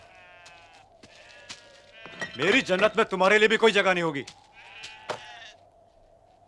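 Sheep bleat in several wavering, nasal cries at the start and again near the end, while someone talks loudly in between.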